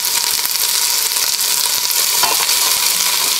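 Chopped celery sizzling and frying steadily in a hot pan, a dense continuous crackle with occasional stir-like rustles, close and loud, no talking.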